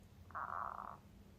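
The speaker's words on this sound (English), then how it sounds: "with my stomach growling like that" A stomach growls in a single low, drawn-out gurgle lasting about half a second, fairly faint against a quiet background with no talking.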